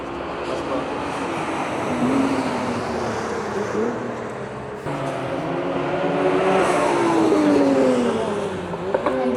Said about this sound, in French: Honda NSX, je crois.